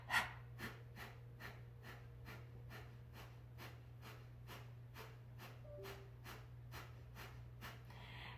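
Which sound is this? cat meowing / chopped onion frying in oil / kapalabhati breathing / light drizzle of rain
kapalabhati breathing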